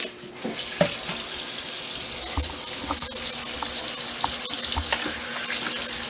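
Tap water runs steadily into a container holding lemon juice, a continuous close gush with a few small clinks near the start.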